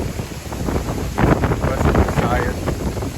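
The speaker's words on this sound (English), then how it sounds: "Wow, super windy, man." Strong wind buffets the microphone at a house-building site in Zaragoza, Antique, on Panay Island in the Philippines. It makes a loud, continuous rumbling roar that surges in gusts.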